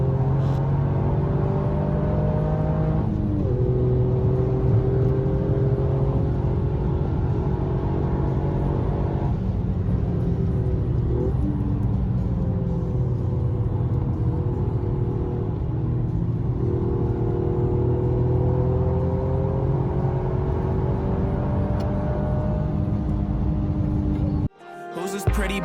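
A VW Corrado laps the Nürburgring, its engine droning loud and close from inside the car, pitch rising and falling through gear changes and corners, ending in an abrupt cut.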